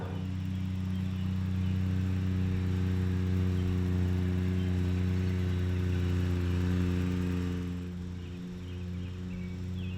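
A John Deere Gator utility vehicle drives across a yard, its mid-pitched engine humming steadily and close by with a constant drone that eases off slightly near the end.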